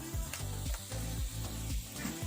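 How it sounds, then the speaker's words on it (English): Half a stick of butter sizzles in a skillet, giving a faint, steady crackling hiss with no talk. "I'm going to put half a stick of butter right in that skillet."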